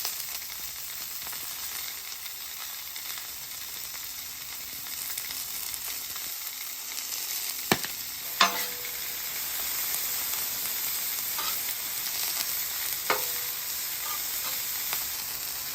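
Italian sausages, peppers and onions seasoned with salt, pepper, garlic and butter fry in a pan with a steady, close sizzle, broken by a few sharp clicks and scrapes of a utensil.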